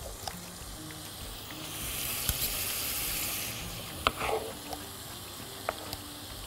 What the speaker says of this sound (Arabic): احط بقى التوم ده اللي انا فرمته